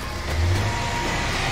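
A car engine driving in State of Decay 2 while the car is breaking down: a steady road rumble with a brief low surge of revving near the start, continuous and close.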